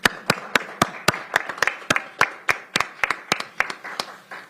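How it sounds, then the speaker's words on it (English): A small group claps steadily at a city council meeting, with sharp, closely spaced hand claps for a few seconds and no talking. "Give them a round of applause."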